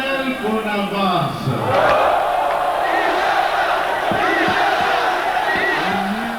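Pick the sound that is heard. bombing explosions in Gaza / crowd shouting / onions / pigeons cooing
crowd shouting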